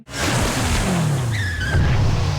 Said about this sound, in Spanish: la chica entra rompiendo la puerta con una moto